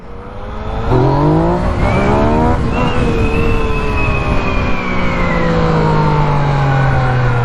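A 2016 Yamaha FZ-09 motorcycle engine climbs through several rising gear pulls, pitch sweeping upward repeatedly before settling into a sustained high drone.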